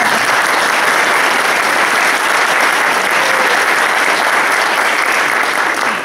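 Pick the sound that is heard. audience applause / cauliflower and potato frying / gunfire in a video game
audience applause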